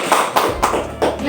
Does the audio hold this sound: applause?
yes